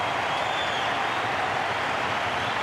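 Stadium crowd at the MCG applauding Mark Waugh's 150 in a one-day cricket match, a steady, dense wash of clapping and cheering that holds evenly throughout.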